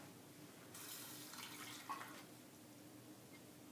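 Water poured from a spoon or cup onto ground flax seeds to make an egg substitute, a soft, quiet pour lasting about two seconds with a faint splash near the end, close by, with no talking.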